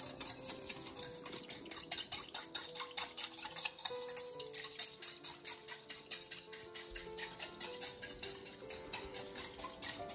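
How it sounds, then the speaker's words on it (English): A small whisk beats a Japanese sunomono cucumber salad dressing in a bowl, making rapid, even clicking strokes throughout, close and steady over soft background music. "And we're going to mix this quite well. Get our cute little baby whisk."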